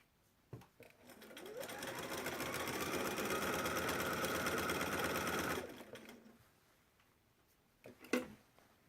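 A sewing machine runs steadily for about five seconds, stitching quilt seams where two seams butt together, starting and stopping with a few clicks around it.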